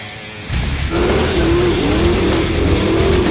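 A 750cc snowmobile engine sitting in a garage fires up after a brief quiet moment and settles into a loud, steady, close running drone that lasts to the end, with no talking over it.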